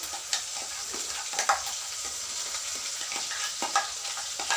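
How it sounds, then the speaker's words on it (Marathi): A ground paste of onion, green chili and cashews frying in hot oil: a close, steady sizzle with soft scraping as a spoon stirs through it every second or so, and no voices. "कांदा मिरची काजू होती याच्यामध्ये, आता तो आपण तेलात फ्राय करून घेऊ"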